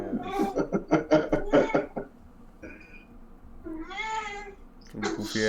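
A cat meows several times in a short run of bright calls, close and fairly loud, with a longer drawn-out meow near the end; a person talks in the background during the clip.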